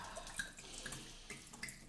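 Liquid, an old opened drink, poured down an apartment kitchen sink, a close, continuous watery splashing and gurgling with a few brighter drips, no talking over it.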